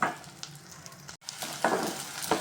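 Garlic, onion and dried red chillies sautéing in a pan, with a soft, steady sizzle and a few stirring scrapes, close but fairly quiet, broken by a very brief dropout partway through.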